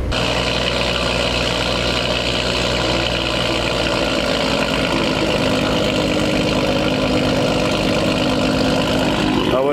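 A Honda car engine starts cold and settles into a steady idle at a casual drag racing event, loud and close, with a continuous rumbling hum throughout and no talk.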